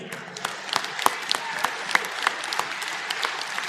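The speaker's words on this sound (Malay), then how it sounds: "kita bagi tepukan gemuruh kepada ayahanda kita" Applause at an UMNO Youth general assembly, a dense wash of clapping with sharp individual claps standing out, steady throughout and fairly loud, with no talk over it.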